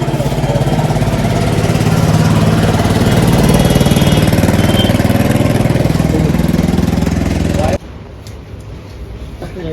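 A motorcycle engine runs close and loud with a steady, rough idle-like drone, then cuts off abruptly near the end, leaving quieter background noise.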